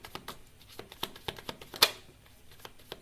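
Tarot cards shuffled during a live reading, a quick run of soft papery riffles and taps with one sharper snap near the middle, close and quiet with no voice.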